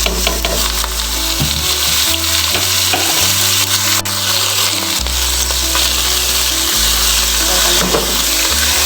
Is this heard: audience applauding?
no